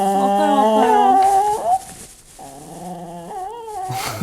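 A dog undergoing acupuncture treatment at a veterinary clinic whimpers and whines nearby in long, pitched, quavering cries, with a brief pause before another drawn-out whine follows.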